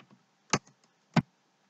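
A few isolated, crisp keystrokes sound on a computer keyboard while a command is entered for a RAMPS 1.4 3D printer controller. Two clicks stand out in a quiet room.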